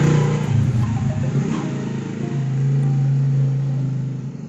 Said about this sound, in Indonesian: Sebentar, ada motor lewat.